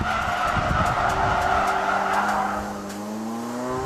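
Honda Prelude, a front-wheel drive car, drifting on a mountain touge road, tires skidding and squealing in a long continuous screech over the steady roar of the engine, close and loud.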